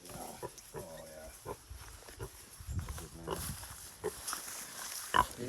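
Pig grunting while being scratched, low snorty grunts coming in short irregular bursts, close and fairly quiet, with a person talking softly over them.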